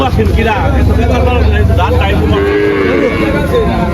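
An Australian Friesian dairy cow at a cattle market moos loudly and close by, one long drawn-out low call and then a second, over market chatter and background noise.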